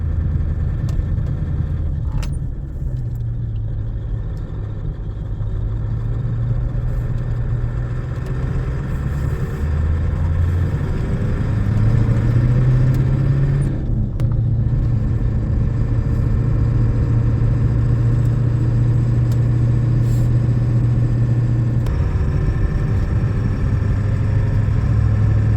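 A truck fitted with a 4-inch exhaust warms up and then cruises slow and steady at about 45 mph, its deep engine drone running continuously and loud throughout, rising slightly in pitch partway through.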